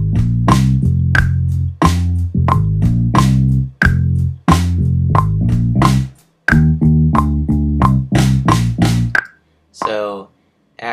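A loud MIDI synth bass line in Logic Pro X plays short, punchy repeated notes in a steady groove, with a couple of brief gaps near the end.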